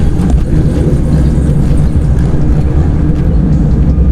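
A group of about seven Mazda Miata cars gathered at a quiet night meet, heard as a loud, steady wash of engine rumble and idling with no clear breaks and no talk.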